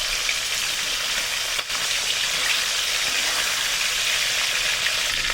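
Large chicken pieces fry four at a time in a small amount of oil over a high flame for chicken biryani, giving a loud, dense, unbroken sizzle and crackle close to the microphone.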